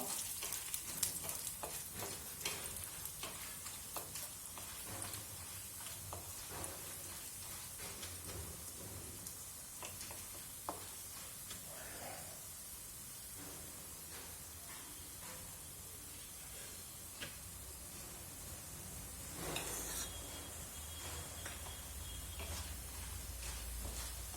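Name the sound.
dal frying in pan for tomato chutney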